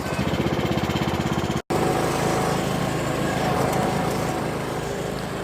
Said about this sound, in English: let's get back on the tractor and take this stuff home and unload it